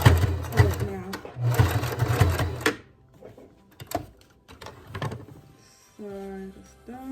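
A sewing machine stitching elastic onto a fabric face mask, bursts of quick mechanical whirring with pauses and handling clatter between them, close by, with a person talking in places.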